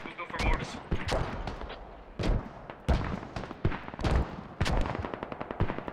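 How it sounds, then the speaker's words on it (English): Mortar fire and gunfire in the video game Squad: rapid rifle and machine-gun bursts crackle alongside heavier mortar thumps, dense and close, with short pauses between volleys and faint voices beneath. "these mortars are doing so much damage"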